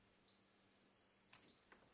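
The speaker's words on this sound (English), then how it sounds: "Sometimes this thing beeps even if it shouldn't." A thin, steady electronic tone from a multimeter sounds for over a second, followed by a couple of brief clicks; faint and close.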